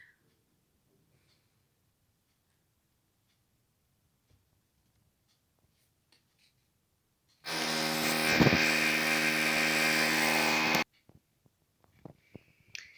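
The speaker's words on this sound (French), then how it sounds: "Désolée pour le bruit, mes voisins font des travaux." A neighbour's renovation work intrudes from next door as a steady, loud electric power tool whine lasting about three seconds, followed by a few sharp knocks and taps in an otherwise quiet room.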